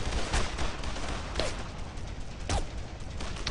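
Repeated gunfire bursts and sharp shots crack through the World War II shooter Brothers in Arms: Road to Hill 30, set against dense battlefield noise, with a few whooshing pitched effects between the shots.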